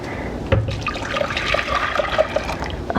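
Water, tinted faintly green from blanched kohlrabi, poured back into a container in a home kitchen, a steady close splashing trickle that runs for about three seconds after a brief thump.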